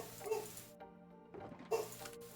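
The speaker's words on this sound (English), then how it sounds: "It's a real treat having a dog that likes barking this much" A pet dog barks in two loud, sharp bursts separated by a short pause, each bark followed by a brief tail of room sound, close to the listener.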